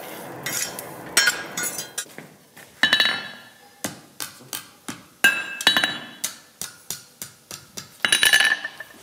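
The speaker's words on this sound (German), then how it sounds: "hämmert er die Spitze um einen speziellen Aufsatz, den Sprengstöckel" Hammer blows on hot iron over an anvil while a blacksmith forges the hanging hook of an iron pan, ringing metallic strikes in irregular bursts and single hits, loud and close with no talk.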